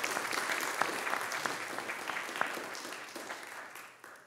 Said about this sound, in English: A round of applause for all celebrating life today.